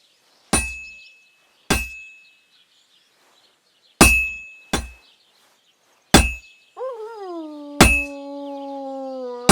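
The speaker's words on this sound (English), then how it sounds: "Now take the hammer and try hitting it a few times." In the game Kingdom Come Deliverance 2, a hammer strikes a sword on an anvil six times in slow, uneven succession, each loud metallic clang ringing out and decaying; a voice-like sliding tone rises briefly near the end.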